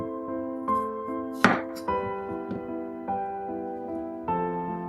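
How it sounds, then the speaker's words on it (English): A kitchen knife slicing mini cucumbers lengthwise for a Vietnamese pig ear salad, with one sharp cutting thud on the board against a steady tonal background hum. "Slice the mini cucumbers lengthwise, about 7 centimeters long"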